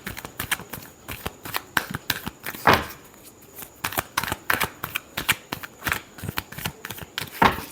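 Tarot cards being shuffled by hand, a rapid run of crisp riffling flicks and soft slaps repeating close up for several seconds with no one talking.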